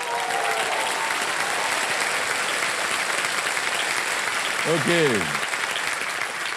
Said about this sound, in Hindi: तो एक बार ताली बजाइए ना।